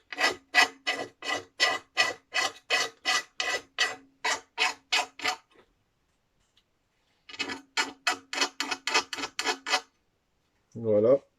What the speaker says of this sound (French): Mais n'appuyez pas comme un bourrin sur votre lime, hein, ça sert à rien. Et surtout, faites ça avec une petite lime